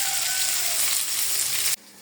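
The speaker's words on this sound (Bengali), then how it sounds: "আমার মাছ ভাজাটা কিন্তু হয়ে যাচ্ছে" Fish, including koi and bata, frying in a pan in a home kitchen sizzles with a steady, bright hiss that breaks off abruptly near the end.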